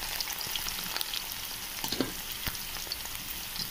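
Bitter gourd (karela) frying in a pan gives a steady, close sizzle, with light clicks of stirring and scraping and no voices.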